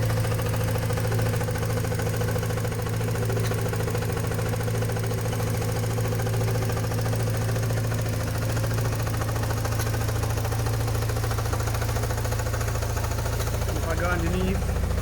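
A Porsche 944 engine knocks at idle, a fast, even tapping riding on a steady low hum, near and constant for the whole stretch with a brief clatter near the end.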